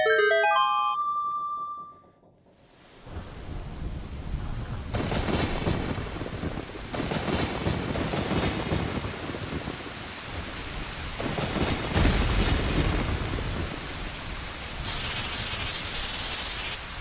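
Rain pours steadily in the Ocarina of Time video game, broken by several heavy thunderclaps and a lightning strike rolling through the downpour after a brief melodic jingle and a moment of silence.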